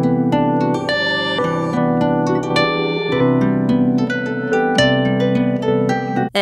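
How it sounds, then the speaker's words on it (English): Music runs through a Chase Bliss Lossy lo-fi pedal from Goodhertz, producing a busy stream of plucked, bell-like notes over sustained low tones, loud and continuous before cutting off abruptly at the end. "Lossy can sound like this."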